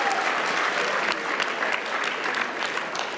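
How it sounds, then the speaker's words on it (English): Conference audience applauding at a closing celebration, a dense even wash of clapping from many hands, moderately loud and sustained for a few seconds. "Let's give them one big round of applause."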